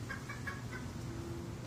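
A backyard chicken gives four quick clucks near the start, then falls quiet under a steady outdoor hum, at close range with no talk.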